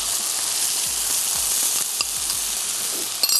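Milk and roasted flour go into a hot pan and hiss in a loud, steady sizzle at close range, with faint stirring scrapes near the end.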